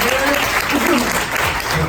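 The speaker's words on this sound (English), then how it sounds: "big round of applause" A short, dense burst of audience applause fills a Southern California real estate broker panel event, loud and continuous with a voice faintly over it.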